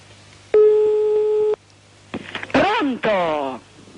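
Telephone line tones on a call being placed back, a steady one-second tone followed by a burst of warbling, rising and falling electronic tones, loud and close over a quiet line.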